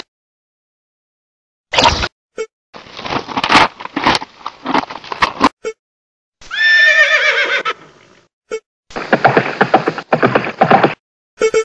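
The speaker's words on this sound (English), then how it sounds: "horse" A horse gives one loud, close whinny with a falling, shaking pitch, surrounded by short bursts of snorting, hoof clatter and rustling.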